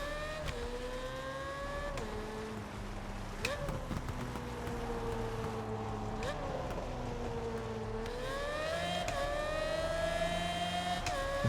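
A car engine in the Test Drive Unlimited Solar Crown racing game, revving steadily with rising and falling tones and gear shifts, sustained and close throughout.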